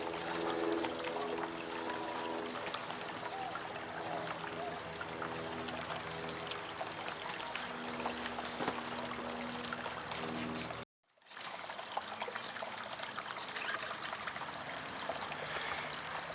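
Garden pond waterfall fed by a homemade filter, water pouring and trickling steadily in a continuous broadband rush, near and fairly loud, with a brief cut to silence partway before the flow resumes.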